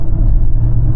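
A Hyundai Tucson with a GDI engine cruising on a highway, steady low rumble of engine and road noise from inside the cabin, loud and continuous for a brief moment.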